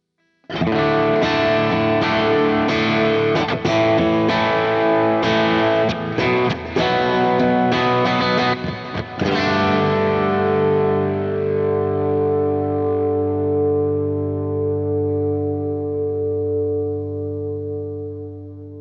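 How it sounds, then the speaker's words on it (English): An electric guitar through a Fractal FM3 rings out with distorted, effected chords and a few sharp strums, then swells into a long washy, reverberant decay that fades slowly. "I'll engage the switch to create this big bloom at the end."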